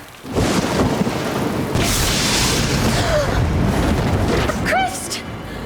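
A lightning strike on a farm: a loud, rumbling boom of thunder rolls through steady rain, with faint voices or tones briefly heard near the end.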